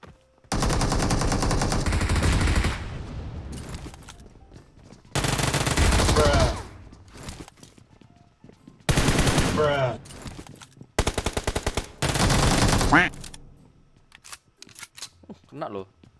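Automatic weapons fire in the battle royale game PUBG comes in four loud, sustained bursts of rapid shots separated by brief lulls, close and dominant, with fainter sounds between bursts.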